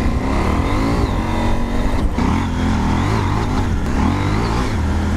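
A KTM 790 Adventure R motorcycle engine revs loudly and close up during off-road riding, the throttle rising and falling in steady waves with no talking.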